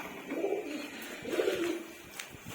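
A kalpunja pigeon cooing close by, two soft, low rolling coos in succession followed by faint rustling.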